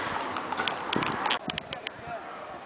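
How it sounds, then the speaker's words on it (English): Horse hooves clip-clop at the Giza pyramids near Cairo, Egypt, a series of light, fairly evenly spaced clops. A busy crowd murmur of voices runs underneath, with one brief louder burst partway through. "resonance of horse going on the pyramid"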